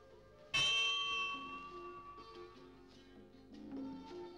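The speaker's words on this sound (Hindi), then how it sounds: "घंटी बुला रही है" A single bright bell strike rings out and decays slowly, its tone lingering over a faint background; a softer chime-like tone follows near the end.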